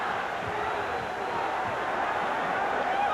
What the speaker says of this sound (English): The crowd is on its feet here at the Forum.